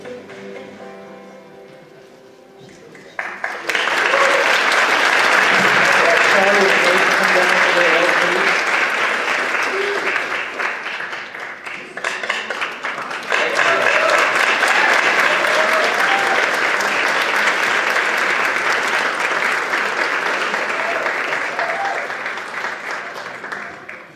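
At a school district board meeting, a crowd breaks into sustained applause after a spoken introduction. The clapping runs loud and even for about twenty seconds, dips briefly in the middle, then swells again before tapering off.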